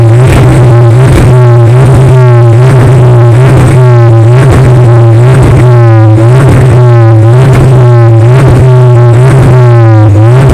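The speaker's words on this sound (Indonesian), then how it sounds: "gua nyalain ini mobil biar gimana suaranya" A VW Golf MK6 TSI engine starts and settles into a steady idle, loud and close, with a constant low hum and a rhythmic pulsing throb running through the whole stretch.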